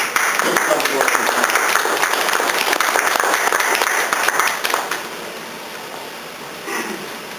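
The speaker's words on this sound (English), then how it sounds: "So we can give a little hand of applause for those who come forward." Members at a general membership meeting applaud with dense, steady clapping for about five seconds before it thins and fades into quieter room sound.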